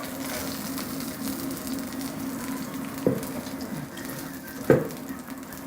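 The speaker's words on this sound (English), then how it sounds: "We're frying aubergines." Aubergines fry in oil in a pan, a steady close sizzle running throughout, with two brief louder clatters partway through.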